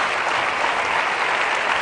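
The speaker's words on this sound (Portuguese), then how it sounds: "eu queria pedir uma grande salva de palmas para o Miguel Costa Matos" Dense, steady applause from a convention audience of the Socialist Youth, cheering for Miguel Costa Matos; loud, even clapping throughout with no voices standing out.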